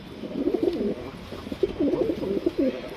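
A male Boori pigeon with a short beak coos close by in soft, low, repeated rolling phrases, two clear bouts with a short pause between.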